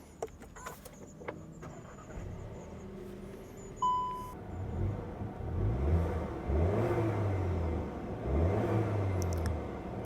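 Cupra Terramar SUV engine firing up from the steering-wheel starter button, heard from inside the cabin, then settling and climbing through several rising revs in a row, moderately loud with no talking.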